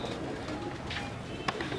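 A short, low coo from old Jaunsri Teddy pigeons kept by a breeder, heard over a steady background hum with one brief sharp sound near the end.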